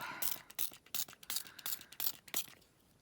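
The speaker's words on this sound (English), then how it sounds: "So give them a good squirt" A spray bottle squirts water onto watercolour paints in a quick series of short, hissy bursts, about eight in a row at a steady pace, close by with no talking.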